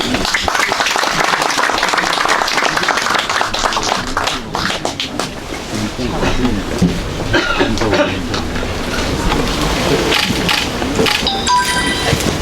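An audience applauds as a congressman is called up to give a congratulatory speech at a memorial ceremony, the clapping mixed with coughs, shuffling and a few voices.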